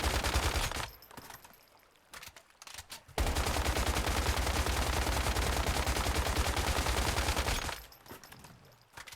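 Magazines emptied in long automatic bursts in the survival shooter Once Human: a brief burst, short gaps, then a sustained rapid stream of loud shots lasting several seconds before a final short burst.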